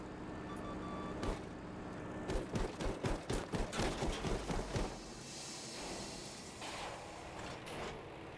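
Gunfire in the video game Battlefield V: a rapid burst of sharp, loud shots rattles off for a couple of seconds over steady background game noise.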